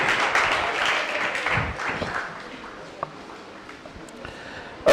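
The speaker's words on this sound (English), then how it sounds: "please give both schools a round of applause" Audience applause for two schools after a secondary school debate, a steady patter of clapping that gradually thins and fades over a few seconds, with a few stray claps and room noise at the end.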